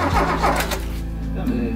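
A DeLorean DMC-12 engine cranks over on a starter wired straight to the battery positive, a steady low mechanical churn running loud and close throughout.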